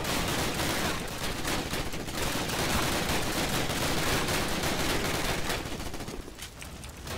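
Heavy gunfire from the World War II shooter game Call of Duty: United Offensive, with weapons hip-fired in dense, overlapping bursts that roar almost without pause, thinning slightly near the end.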